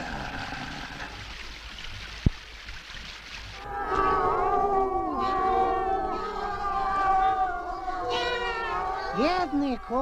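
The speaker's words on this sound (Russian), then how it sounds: "Бедные кошки от голода кричат." Hungry cats cry in a 1987 Soviet animated film. After a few quiet seconds, many overlapping meows and wails rise together and continue loudly to the end.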